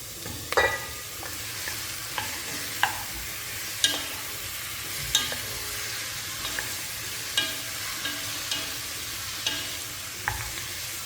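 Marinated chicken stirred in a frying pan for a Kerala-style Christmas chicken stew, with a steady sizzle under repeated scraping clinks of the spoon against the pan at a loose, regular rhythm, no talking.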